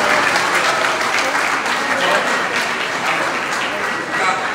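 Congregation applauding during a Pentecost Sunday Mass in a church, a sustained, even patter of many hands filling the space for several seconds.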